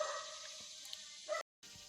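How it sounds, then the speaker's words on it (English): A pet dog in a home garage gives a short, fairly faint bark or yip amid a steady electrical hum, followed by a brief dropout. "My dog heard me talking back here and assumed there was somebody back here"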